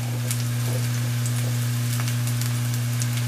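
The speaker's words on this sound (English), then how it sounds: "So I'm going to go ahead and saute my mushrooms." Mushrooms sautéing in a pan give a steady, soft sizzle with scattered crackles over a constant low electrical hum, close by and without talk.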